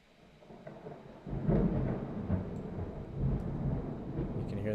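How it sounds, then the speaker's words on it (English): Low rumbling thunder from a storm cell, rolling in broad swells that swell and fade across the stretch, moderately loud with a steady wash of rain or wind beneath. "You can hear the thunder on the north side of that cell."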